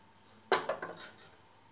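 A kadai pan is set down on a stove for a soy recipe, giving one sharp metallic clank followed by a few lighter clinks and rattles that fade out quickly. No one speaks.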